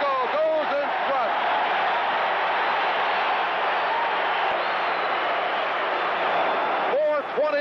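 A huge 1970s basketball arena crowd in Chicago roars loudly and continuously, a thick wall of cheering that swells throughout, with a voice talking over it at the start and end.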